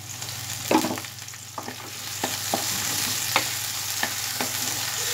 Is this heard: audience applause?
no